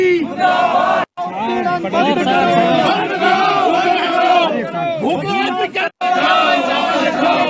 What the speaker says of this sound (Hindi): बद्रीश संघर्ष समिति के लोगों ने नारे लगाए